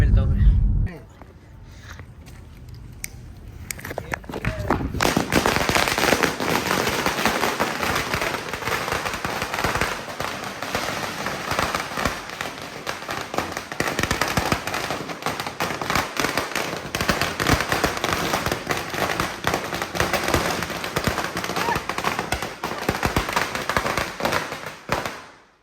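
Diwali firecrackers burst at home in a dense, loud crackling barrage that runs almost without a break, with sharp pops packed together, after a short quieter stretch at the start; voices can be heard under the noise.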